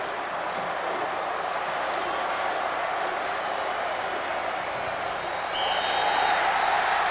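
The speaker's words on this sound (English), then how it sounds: "And this crowd will erupt." Stadium crowd at a Miami versus Florida State college football game, a dense sustained roar of cheering and applause that swells louder near the end, with no clear voices on top.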